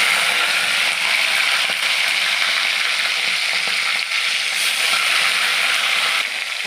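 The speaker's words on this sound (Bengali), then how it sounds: "চিংড়ি মাছগুলো ভাজার জন্য দিয়ে দিচ্ছি।" Prawns sizzle in hot oil in a wok, a dense, steady crackling hiss that holds evenly throughout with no voices over it.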